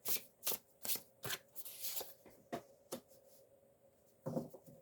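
Tarot cards riffled and slapped down in a quick series of crisp, close papery bursts, with one longer shuffle in the middle and a final flurry at the end, no voices.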